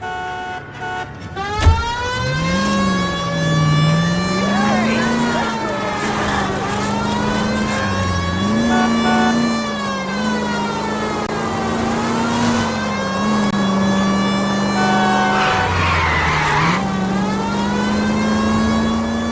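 Car driven in LA Noire: a loud, close engine drone whose pitch climbs and falls as it revs and shifts, continuous throughout after a sharp thump near the start.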